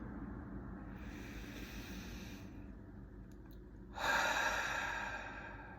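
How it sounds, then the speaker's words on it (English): A person breathes in slowly and audibly, then lets out a louder, breathy exhale close to the microphone after a brief pause. No words are spoken. "Let me just take a breath."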